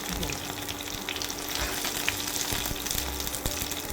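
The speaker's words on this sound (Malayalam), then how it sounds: "കടുക് പൊട്ടാൻ തുടങ്ങിയിട്ട് നമുക്ക് അതിലേക്ക് കറിവേപ്പില ഇട്ട് കൊടുക്കാം." Mustard seeds and dried red chilli spluttering in hot oil, a dense, steady crackle and sizzle that runs unbroken throughout with no voices.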